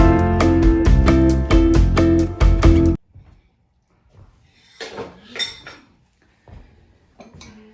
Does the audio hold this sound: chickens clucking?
no